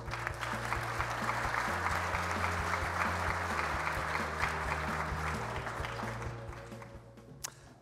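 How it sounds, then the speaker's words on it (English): Sustained applause from an audience at an Ontario energy event fills the room, dense steady clapping from many hands that gradually tapers off at the end. "Let's have one more round of applause for the Honourable Stephen Lecce"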